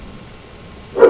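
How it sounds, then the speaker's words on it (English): A dog gives a single sharp bark close by at the very end, after a second of near-silence. "Sorry about my dogs"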